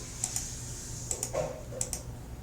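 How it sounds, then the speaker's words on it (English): Keys clatter on a computer keyboard as a command is typed into a terminal, a handful of quick, close clicks in an uneven rhythm. "So now if we were in our terminal, if we type Gambit Pairing"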